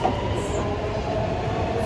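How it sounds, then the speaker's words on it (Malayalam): Rumbling interior of a moving Dubai Metro train, a steady low roar of wheels on rails with a faint high whine, loud and continuous. "Metro കയറിയിരിക്കുന്നു guys."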